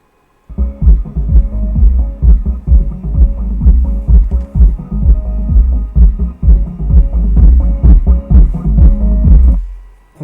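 Cooling fan running inside a Deaf Bonce Atom 500.2 Pro car amplifier under repair, a steady low hum with a throbbing pulse that stays loud and constant for about ten seconds.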